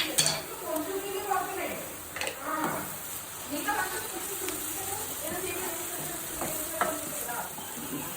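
Onions frying and sizzling in a pan with ginger garlic paste, a steady hiss broken by repeated stirring scrapes of a utensil against the pan, close and fairly loud throughout.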